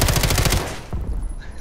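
Rapid automatic gunfire in the Call of Duty Warzone Rebirth video game, a quick burst of loud evenly spaced shots that cuts off, followed by a couple of fainter single shots.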